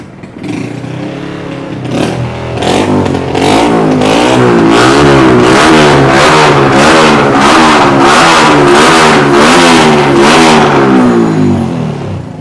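A Honda Wave motorcycle engine revs loudly and repeatedly, rising and falling in rhythmic throttle blips, close and continuous for several seconds.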